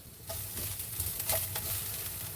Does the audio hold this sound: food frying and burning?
yes